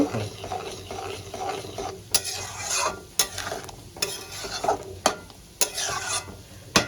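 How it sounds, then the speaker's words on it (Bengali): A spoon scrapes and stirs through kidney beans sautéing with spices in a pan, the strokes coming in rough, repeated bursts over a soft sizzle. "রাজমাটা আমি মশলার সঙ্গে একটু কষিয়ে নিয়েছি"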